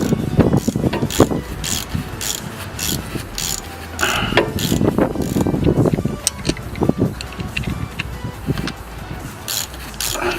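A ratchet wrench loosening a brake caliper bolt on a 2005 Ford Expedition, quick rhythmic clicking strokes repeated in bursts up close, with metallic turning sounds between them.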